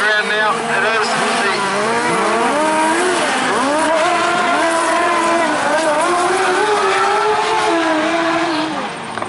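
Speedway sidecar motorcycles racing flat out at a Rosebank meeting, a loud continuous engine roar with rising and falling pitch as the outfits pass close by, the commentator talking over it throughout.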